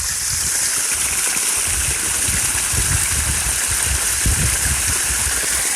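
Water gushes out of garden pipes in a forest garden, a loud, steady rushing flow with a continuous hiss and low splashing, heard alone and close throughout.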